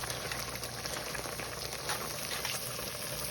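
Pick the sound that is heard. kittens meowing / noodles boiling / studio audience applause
noodles boiling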